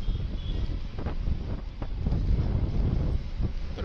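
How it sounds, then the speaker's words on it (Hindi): Strong wind in the mountains beats loudly and steadily against the microphone while riding a Honda SP motorcycle, a continuous low roaring buffet with no break. "हवा चल भी रही है बहुत तेज़, आपको शायद हवा की आवाज़ आ रही हो"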